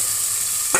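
Onion and spices sizzle as they are sautéed and stirred in a pan, with a little water just added. A steady frying hiss runs throughout, then a brief spoon scrape or stir lands near the end.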